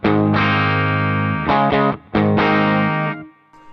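A humbucker-equipped electric guitar through a Peavey Bandit Silver Stripe amp with bright switch on, loud gritty sustained chords struck a few times, ringing then cutting off.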